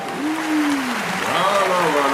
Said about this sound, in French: On applaudit, les gars.